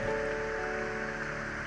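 Soft, even rain falling outside, a steady hiss with a faint low tonal hum underneath, continuous throughout and unaccompanied by voices.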